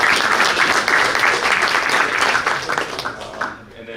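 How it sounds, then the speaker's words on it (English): A banquet audience at a boys varsity basketball dinner claps loudly for the head table, sustained applause that fades toward the end. "we'll clap it up for the table"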